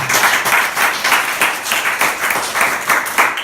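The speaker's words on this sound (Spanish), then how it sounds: "Ese aplauso que sea para el Señor." A church congregation applauds steadily during a sermon, a dense wash of many hands clapping in loose rhythm, loud and continuous with no voices.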